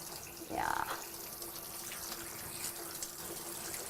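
Faint water running from a tap or sprayer during a dog bath while a special-needs dog's ear is rinsed, a soft steady trickle with a brief splashy burst early on, and a person talking quietly.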